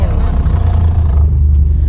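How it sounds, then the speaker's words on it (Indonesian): Car tires roll over the grooved rumble strips cut into a highway shoulder between Colorado and Missouri, giving a loud, coarse, rapid drumming under the road noise that drops away partway through. "mobil tuh kalau keluar jalur bunyinya gini, jelek. Jalannya digali-gali gitu, biar ketahuan bahwa kita keluar jalur."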